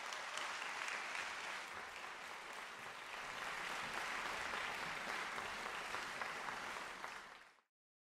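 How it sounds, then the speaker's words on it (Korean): A concert audience at a classical performance of Vivaldi's Four Seasons claps steadily for several seconds, a dense even wash of applause that ends abruptly. "큰 박수 부탁드립니다."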